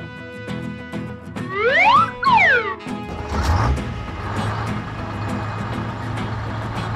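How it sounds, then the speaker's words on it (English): A bulldozer works with heavy thuds and crashes, a pair of rising and falling whistle-like sweeps, then a low engine rumble that settles into a steady drone, loud and close. "Bulldozer."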